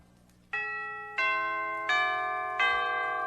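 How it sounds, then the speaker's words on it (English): Orchestral tubular chimes strike four deep, bell-like notes about two-thirds of a second apart, each ringing long and full with rich overtones that carry into the next, heard alone. "and the chimes"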